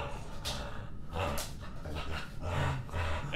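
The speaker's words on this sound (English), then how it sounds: "She's got this like aggressive playtime on growl" A dog growling and panting during aggressive play, rough breathy grumbles and huffs in uneven bursts, close and fairly loud, with no talking.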